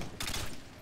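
A short burst of AK-47 Grenadier gunfire in the video game Modern Warfare 2, a loud rapid volley lasting under half a second before trailing into quieter game noise.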